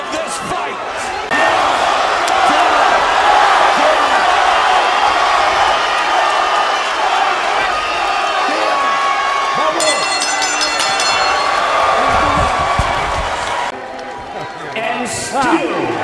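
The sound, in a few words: boxing arena crowd cheering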